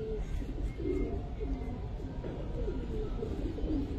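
A Giribaz pigeon coos in repeated low, rolling phrases at close range, layered over a rumbling background murmur, with the coos recurring every second or so.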